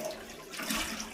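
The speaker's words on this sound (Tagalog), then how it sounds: "huwag po kayo magalit kapag ako ay hindi nagpatay ng gripo, tubig" Water runs steadily from a tap during washing, a brief hissing, splashing stream at moderate volume with no voice over it.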